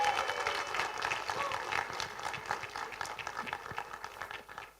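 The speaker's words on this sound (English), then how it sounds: "Can we give His Excellency a round of applause?" An audience at a debate event applauds His Excellency, a full burst of clapping that starts loud and slowly thins out, with crowd murmur and scattered voices mixed in.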